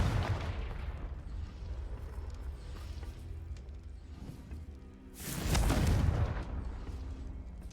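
A fiery Confringo spell blast in Hogwarts Legacy bursts with a loud whooshing boom partway through, rising out of rumbling background game effects and then fading.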